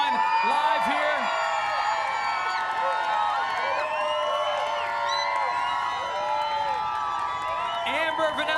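Crowd of fans cheering and whooping at the world premiere of The Chosen: Last Supper, a lively sustained roar with shouts rising above it while a presenter talks over the noise nearby.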